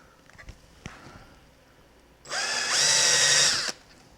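A power drill bores into a part of a blaster replica kit in one loud, sustained burst of high whine lasting about a second and a half, after a few quiet handling clicks.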